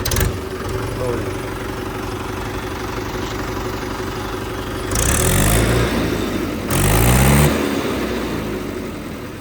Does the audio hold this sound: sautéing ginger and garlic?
no